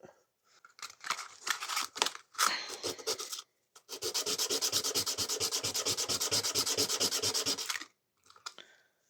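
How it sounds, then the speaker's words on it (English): A STIHL HS 45 hedge trimmer washer rubbed on rough sandpaper, a few loose scrapes then a fast, even run of close rasping back-and-forth strokes for about four seconds, ending with a last light scrape. "you can get some rough sandpaper and just, you know, rub it on it"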